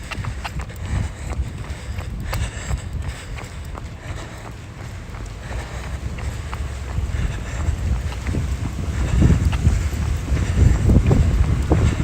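Cold wind buffets the microphone during an outdoor run along a resort roadway, a loud continuous low rumble that swells and gusts stronger toward the end.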